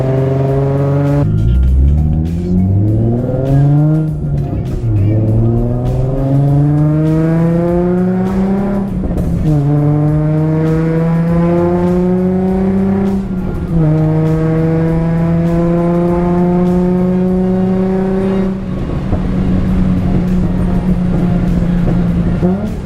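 Infiniti G37S engine after a cold start, loud and close, revving up and settling in repeated climbing sweeps that rise and fall several times.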